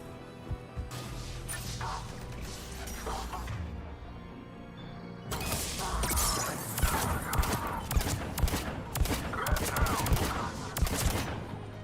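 Weapon fire in the Mass Effect 3 video game comes as dense, rapid bursts of shots with crashes and impacts, loud and busy, growing heavier in the second half with game sounds underneath.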